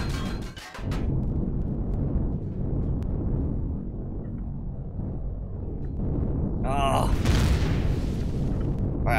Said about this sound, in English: Somebody decided to start shooting at me like crazy.